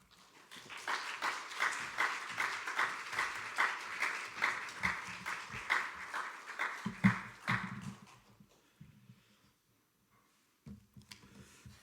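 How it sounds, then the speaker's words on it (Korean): Church congregation clapping to welcome the pastor at a worship service, a steady run of claps for about eight seconds that then breaks off into near silence with a few faint sounds. "목사님 나오실 때 큰 박수로 환영하도록 하겠습니다."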